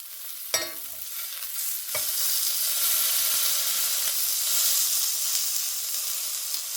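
A wild duck breast sears in a hot pan with a steady, bright hiss and crackle that swells and holds after a couple of sharp clanks of a pan or utensil near the start.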